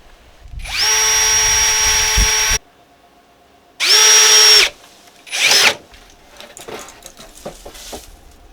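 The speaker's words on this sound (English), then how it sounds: "So we're going to drill these." Three bursts of a power drill whirring through wood, drilling holes in a storage box, a long one then two shorter ones, close and loud, followed by light clattering and handling noises.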